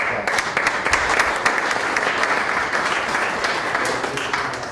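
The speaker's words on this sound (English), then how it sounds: "let's give Bill a round of applause" A modest room of attendees at a town board meeting in Glenville, New York claps steadily, a moderately loud, even patter of individual hands sustained for several seconds with no talking over it.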